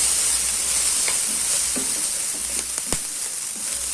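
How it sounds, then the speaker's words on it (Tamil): Small onions, about seven or eight, with four garlic cloves and a few curry leaves sauté in hot oil in a pan, giving a steady close sizzle with occasional soft clicks from stirring. "இது ஒரு 2 நிமிஷம் வதக்கட்டும்"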